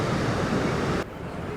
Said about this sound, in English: Look how much water is going down over these falls.